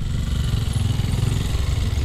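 A motorcycle ridden along a road between Kuningan and Luragung, a steady, loud engine drone with wind rush, constant and close throughout.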